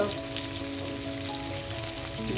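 Onions fry steadily in hot oil for capsicum fried rice, a close, continuous crackling sizzle with a low hum underneath.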